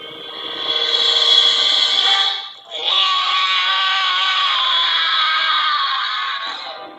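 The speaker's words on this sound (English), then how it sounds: "Scream." A loud, sustained scream sound effect played back on a key or device, holding steady for about two and a half seconds, breaking briefly, then resuming for several more seconds before tapering off; no talking over it.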